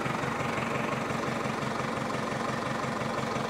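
Sonalika 750 DI diesel tractor fitted with a modified turbo diesel pump, idling with a steady, fairly quiet knocking throb at an even rhythm and no talking.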